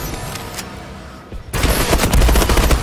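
Call of Duty Black Ops 3 multiplayer gunfire: a quieter stretch of distant shots gives way to loud, rapid automatic fire that continues to the end.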